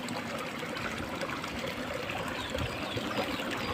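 Clear stream water flows steadily outdoors during a bicycle camping tour, a continuous close trickling and gurgling wash with no pauses and no speech.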